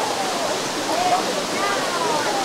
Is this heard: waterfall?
yes